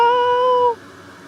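A person imitates a cat with a single sustained, tonal meow lasting most of a second, loud and close, then cutting off into quiet room tone.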